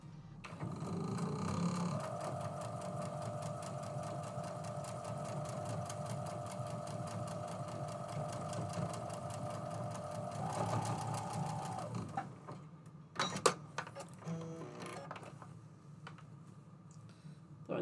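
Sewing machine stitching pieces for a stars-and-strips quilt runs in one steady, rapid mechanical rattle for about twelve seconds, close and even, then stops and leaves a few handling clicks and taps.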